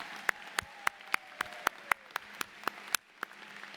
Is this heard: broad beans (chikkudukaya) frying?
no